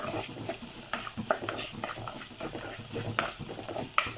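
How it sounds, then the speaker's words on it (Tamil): Onion and garlic sautéing in a pan for a garlic and curry leaf kulambu, a steady low sizzle with scattered spoon scrapes and stirring clicks, close and alone. "இப்போது இந்த வெங்காயம் பூண்டு இதெல்லாம் நல்லா வதங்கட்டும்."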